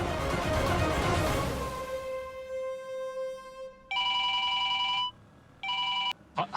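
A telephone rings in two loud electronic bursts after a swelling, fading tone, with a short gap between rings.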